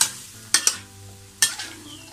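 Bean sprouts, tofu and minced pork are stir-fried in a pan: a low sizzle runs throughout, cut by several sharp scraping strokes of a spatula against the metal.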